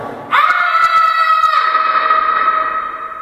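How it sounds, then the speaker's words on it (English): A man screams loudly in a reverberant lab room, one sustained harmonic cry that breaks in abruptly, holds steady for over a second, then decays slowly into a long echoing tail with no other voices. "the first thing he told me to do was scream"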